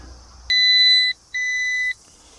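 A continuity tester emits two clear, close electronic beeps, one slightly longer than the other, while checking the wiring of a vintage David Brown 25 tractor in a quiet setting.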